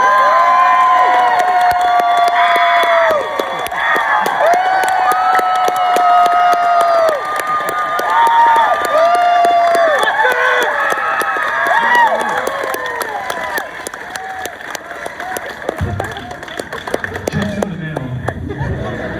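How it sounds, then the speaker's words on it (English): A convention panel audience cheers, claps and whoops loudly at Comic-Con, with shrill yells and whistles rising over the roar. The noise swells and settles over about fifteen seconds, then fades toward scattered clapping. "Can we just get everybody to cheer one more time again?"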